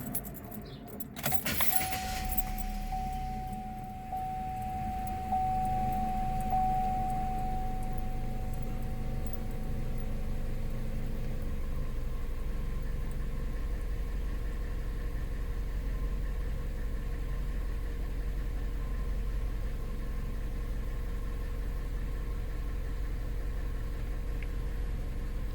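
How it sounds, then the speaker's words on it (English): A Chevrolet Sonic cranks briefly and starts after a battery replacement, then settles into a steady, close idle with a constant low engine hum that runs to the end; keys jingle near the start. "Make sure your car is able to start up."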